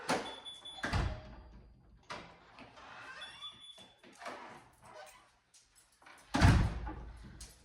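A door slides and bumps shut with a few clattering thuds and squeaks, ending in a heavier thump nearby.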